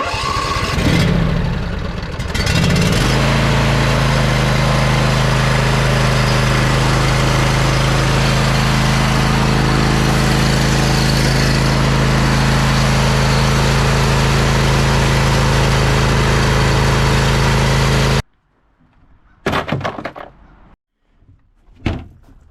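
A John Deere e180 lawn tractor engine cranks and catches, then runs at a loud, steady idle for about fifteen seconds before shutting off, followed by a few scattered clunks.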